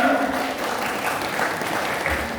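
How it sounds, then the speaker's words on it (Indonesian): An audience at a business training seminar gives a steady, dense round of applause that holds evenly throughout without any speech. "Aplaus untuk Bapak Ibu."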